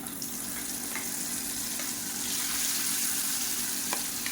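Steady sizzling and crackling of ground chutney sautéing in hot oil, with faint scraping as it is stirred, close and continuous.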